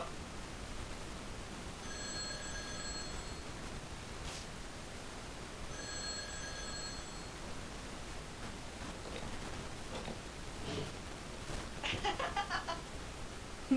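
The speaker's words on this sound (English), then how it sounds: "Okay, answer the phone." A telephone rings twice within the Dark Fall video game, two electronic bursts of ringing separated by a short gap over steady ambient game noise.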